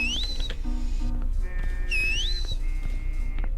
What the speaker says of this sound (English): Yes, I hear the whistling.